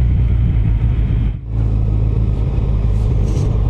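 A Yamaha FJR1300 motorcycle engine drones steadily while riding through Moab, Utah, with loud low rumble and wind noise and a brief dip in level midway, no talking.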